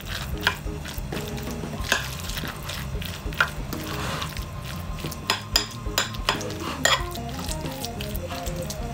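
Cutlet mixture is stirred in a bowl, giving soft squishy churning and repeated clinks of a utensil against the dish in an irregular rhythm, close and moderately quiet, with faint kitchen background.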